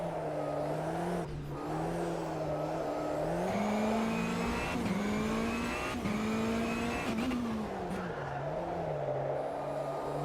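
Rallycross car driven in the Automobilista 2 racing game, its engine droning steadily with rising and falling pitch through gear changes and corners, loud and continuous throughout with no talk.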